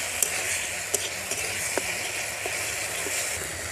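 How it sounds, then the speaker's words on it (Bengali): A spice paste sizzles and fries steadily in a pan for a parshe fish mustard curry, a continuous close hiss broken by a few soft clicks of stirring. "মশলাটা কষানো হয়ে গেছে"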